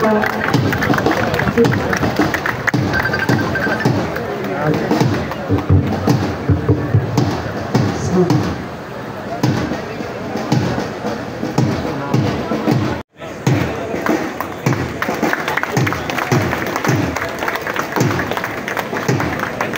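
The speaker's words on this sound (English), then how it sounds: "A round of applause, please" After an ROTC silent drill presentation at the Philippine Army headquarters in Fort Bonifacio, a crowd claps and cheers loudly, mixed with voices and a brief cut near the end.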